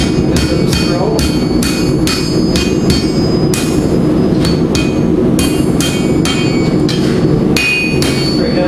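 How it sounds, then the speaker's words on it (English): A blacksmith hammers hot metal on an anvil while forging a hook for a deck rail, the loud, close, ringing strikes coming in a steady rhythm of roughly two per second over a constant droning background. "You just curl it over the edge, increasing the distance when you strike there."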